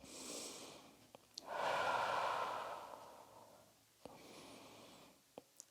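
Slow, deep breaths taken during a gentle neck and shoulder stretch. The soft inhales and exhales are close and quiet, with a long airy breath in the middle and a few small clicks between them.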